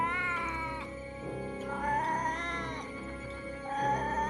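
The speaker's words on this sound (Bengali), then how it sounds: "সেই বিড়ালের কান্নাতেই ঘুম ভাঙল।" A cat crying and caterwauling deep at night, long wavering meows with rising and falling pitch, loud and continuous, heard alone as an eerie effect for a spooky forest tale.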